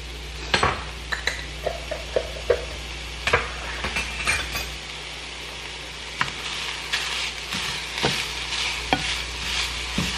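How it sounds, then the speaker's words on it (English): Minced garlic sizzling in a hot pan while a utensil stirs it, with a steady fry hiss under repeated scraping and clinking taps against the pan, close and fairly loud throughout. "add my garlic, and I'm gonna cook it for an extra minute, just stirring it in to mix the flavors"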